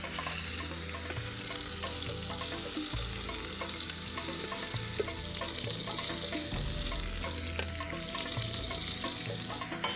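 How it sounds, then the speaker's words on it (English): Steady, loud sizzling of spice paste frying in a hot pan, with occasional scraping and stirring underneath, continuous throughout. "you fry it before applying it to the meat."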